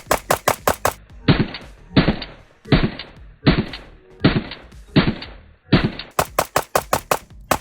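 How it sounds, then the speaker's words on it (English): Alpha Foxtrot 1911-S15 pistol fired on a range, twenty rounds dumped in a fast string: rapid sharp cracks in quick bursts, close and loud, each followed by a short echoing tail, with no talk. "let's just dump all 20 rounds here"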